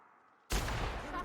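A single loud shotgun blast in The Outer Worlds, fired at an armored manta queen, erupting abruptly after near-silence and leaving a roaring, rumbling tail.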